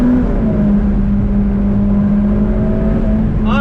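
A 2020 Ferrari F8 Tributo Spider's engine is loud and close, holding a steady droning tone as it pulls under throttle, with a brief rising swell at the very end.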